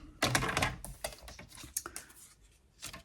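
Paper for an easy gift box being cut, giving a quick run of crisp, close snipping and clicking strokes that taper off, with an isolated final cut.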